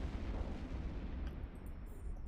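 Explosions in the space game EVE Online: a dense, continuous booming rumble, loud and heavy in the low end, with crackling bursts toward the end and no voices.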